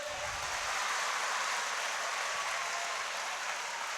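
Children and teachers at a Jain children's values class clapping together, a dense, steady patter of applause held at an even level throughout with no talk over it.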